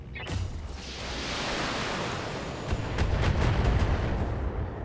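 Mech weapons open fire on a Thunderbolt in BattleTech: a burst of heavy booming impacts and rumbling blasts building into a dense, loud barrage.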